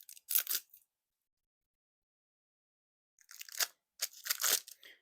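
A Frute Brute playing card deck being unwrapped, with a short crinkly tear of wrapper, then a pause of silence before two more bursts of crackling plastic close up.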